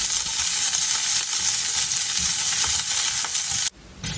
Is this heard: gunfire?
no